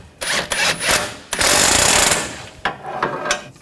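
Power tool rattling a nut tight on a front strut and spring assembly of a 2014-2020 Nissan Rogue, loud close bursts of buzzing impact chatter with short pauses between them.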